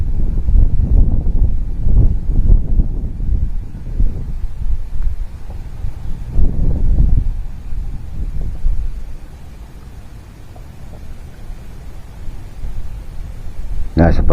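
Strong wind buffets the microphone on the Semeru volcano in a low, rumbling roar that swells and eases over several seconds, with no speech.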